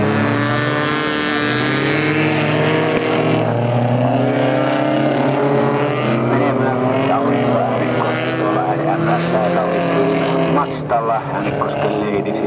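A Mazda rally car runs fast laps at a winter rock rally event in Pieksämäki, its engine roaring loud and steady throughout under continuous announcer commentary.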